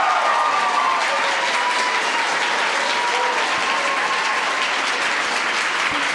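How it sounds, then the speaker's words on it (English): Loud, continuous audience applause at a Nerd Nite talk night, dense clapping from a sizable crowd holding steady for about six seconds, with a few faint voices underneath. "please, a round of applause for our young people"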